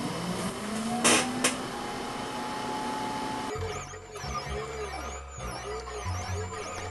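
A 3D printer runs a print of the Rebel base piece for a lightsaber pen holder, its stepper motors whining in repeating rising and falling sweeps with a steady mechanical hum, close and moderately loud, after a brief clatter at the start.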